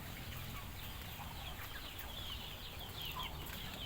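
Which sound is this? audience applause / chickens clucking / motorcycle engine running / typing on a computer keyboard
chickens clucking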